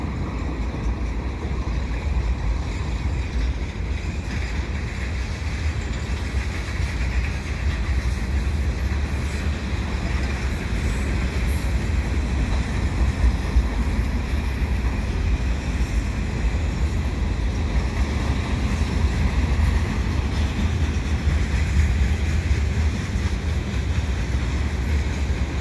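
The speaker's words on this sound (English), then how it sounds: "I've got a CN train here at Dorval at Marshall Avenue, heading eastbound." A CN eastbound mixed freight train led by two GEVO locomotives rolls past at Marshall Avenue in Dorval, a dense, steady rumble of wheels and cars that stays loud and close throughout with no voices.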